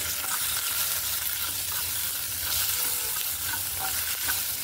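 Cumin, mustard seeds and garlic sizzle and crackle in hot oil for a vegetable dish, a continuous bright frying hiss with small pops and stirring, close and steady, no speech.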